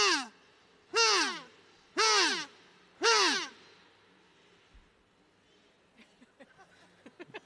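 A group of people blows four short, tiny kazoo sounds in imitation of an owl, four evenly spaced loud buzzy toots, then a few faint scattered noises.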